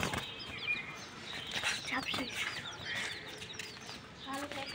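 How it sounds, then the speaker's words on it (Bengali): A small sparrow flutters inside a cage shared with chicks, giving soft wing flaps and scattered high chirps and cheeps, faint and continuous at close range. "কেন চড়ুই পাখিটাকে আটকাইছো?"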